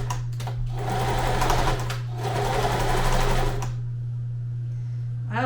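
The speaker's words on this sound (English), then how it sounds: "I'm going to sew this a little further in on this side just to even out the sides" A sewing machine stitches fabric for a market checkout station in two close, loud runs of rapid, even whirring, then stops, leaving a steady low hum.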